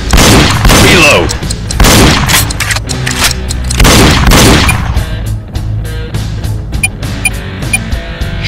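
Rapid gunfire in a Nintendo Wii shooting game, loud dense bursts and booming shots piling up continuously, with a voice speaking over the barrage.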